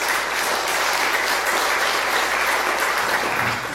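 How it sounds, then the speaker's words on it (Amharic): A church congregation applauding during an Amharic sermon, a steady, loud wash of many hands clapping together without pause, with no voices rising above it. "ተልእኮ ለሰጠን ጌታ አጨብጭቡ"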